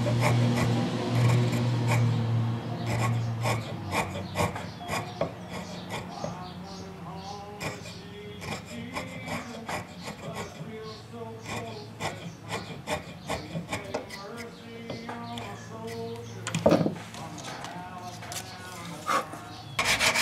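Wooden crankbait fishing lure with a hardened coating being sanded smooth, continuous soft rubbing and scratching strokes, close but fairly quiet, with scattered small knocks and handling noises.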